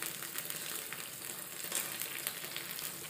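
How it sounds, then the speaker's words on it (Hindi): Fried eggs being stirred into chili sauce in a hot pan for a boiled egg chili dish, a steady close sizzle with soft scraping from the stirring and no talk. "इसमें हम हमारी जो फ्राइड एग्स हैं उसे इसमें मिक्स कर देंगे।"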